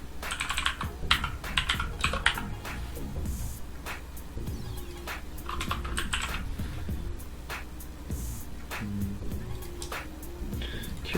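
Rapid typing on a computer keyboard, dense bursts of crisp key clicks close by with brief pauses between runs, alone without talk.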